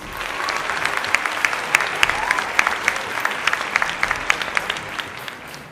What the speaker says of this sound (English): Please, a round of applause for our sponsors.